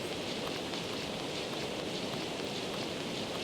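Steady, even rain falls throughout in a dinosaur survival video game, a constant broadband hiss with no voices heard.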